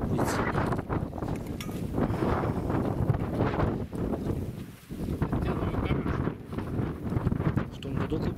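Heavy wind buffeting a microphone outdoors by a pond at midday, a loud continuous low rumble that swells and dips, with a brief lull near the middle.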